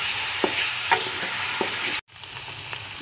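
Chicken meat frying in a pan after ginger-garlic paste, loud continuous sizzle with a few scraping stirs of a spoon, cutting to a brief silence near the end before the sizzle resumes.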